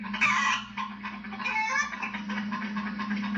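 A voice imitates a chicken clucking, with rapid choppy clucks and a squawk, loud and close, heard alone.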